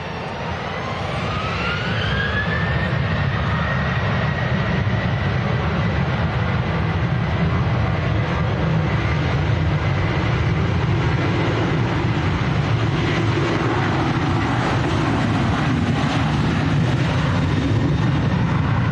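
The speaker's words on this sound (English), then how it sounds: "Next to go, we've got a Ryanair to Marrakesh down in Morocco." A Ryanair airliner departs Manchester Airport for Marrakesh, its engines building into a loud, sustained roar with a rising whine in the first seconds, then a steady broad rumble holding for the rest, with no voices.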